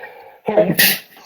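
A single quick sneeze, close and sharp, after a short intake of breath.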